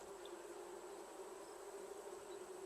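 Wasps buzzing in a video game, a steady continuous droning hum with a faint high whine, constant and even throughout, no speech.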